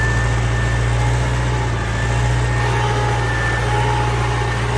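An old farm tractor's engine idles steadily, a loud, close, unbroken low rumble with a constant hum and no voices.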